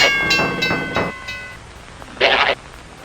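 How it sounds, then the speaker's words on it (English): A train horn-like wail with ringing tones sounds for about a second in a FNAF fan-made horror game, then a brief rushing hiss follows after a quiet gap. "Throughout different moments in the night, you'll hear a train."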